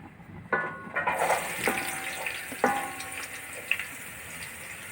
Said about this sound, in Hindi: हमारा ऑयल गर्म हो गया है और अभी हम इसके अंदर प्याज डालते हैं।